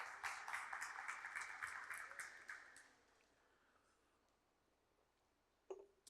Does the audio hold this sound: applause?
yes